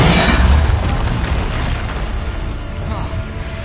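A repelling spell blast in Hogwarts Legacy combat: a loud booming burst at the start that decays into a rumbling, noisy tail.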